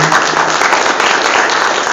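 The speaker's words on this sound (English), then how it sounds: "Let's give our panel a round of applause." A crowd applauds a panel at a community event on dating violence, a loud, dense burst of clapping that stays even for the whole moment.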